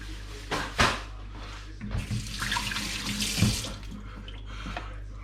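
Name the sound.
washing hands under running tap water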